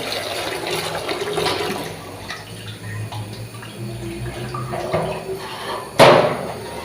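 A kitchen tap runs steadily while food is rinsed under it, a continuous close splashing stream with a sharp knock of a pot or lid near the end.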